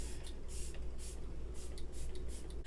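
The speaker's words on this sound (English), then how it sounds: "I'm going to go in with my Morphe Luminous setting spray" Bursts of Morphe Luminous setting spray misted from a pump bottle, several short airy hisses in an uneven rhythm, close and fairly quiet over a low steady hum.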